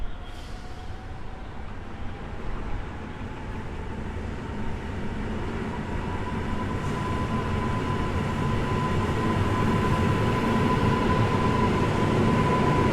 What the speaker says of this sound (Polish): I niecałe 3 minuty później rusza kolejny skład do Sochaczowa.